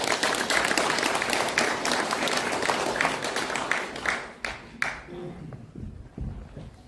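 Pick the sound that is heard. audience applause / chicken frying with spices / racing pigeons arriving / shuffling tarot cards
audience applause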